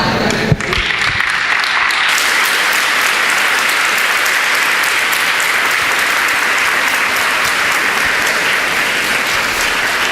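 Church congregation applauding, a dense steady wash of clapping that begins abruptly and continues loud and unbroken throughout, with no voices rising above it.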